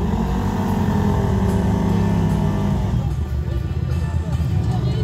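Mud-racing car engine roaring loud and close, its steady growl shifting in pitch as the car runs, with people talking in French over it.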